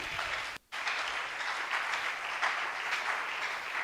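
A church congregation applauds in a dense, sustained wash of clapping that stops for an instant near the start and then carries on steadily, with no clear voices above it.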